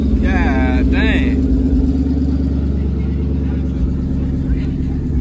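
Dodge Scat Pack muscle car idling loud and close at a car meet, its exhaust burbling with rough pops and crackles as it shoots flames, with a sharp rising whine early on and people talking over it.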